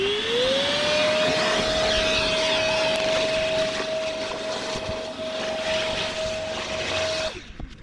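A Moosoo cordless wet/dry vacuum switched to blower mode spools up to a loud, steady high whine with a rushing airflow, running continuously before cutting off near the end.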